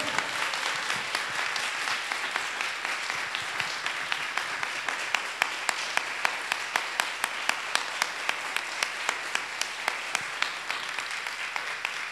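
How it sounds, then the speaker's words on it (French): An audience on a Saturday evening show gives a minute of applause in tribute to Erickson Le Zoulou, a steady mass of clapping with one nearby person clapping in a sharp, regular rhythm above the crowd. "nous allons faire une minute d'acclamation pour Erickson Le Zoulou"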